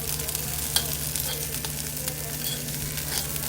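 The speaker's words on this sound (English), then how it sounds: "We're trying to cook up the ground meat first." Ground meat sizzles and fries in a pan while a spoon stirs and scrapes through it, a steady close crackle with occasional sharper clicks and no talking.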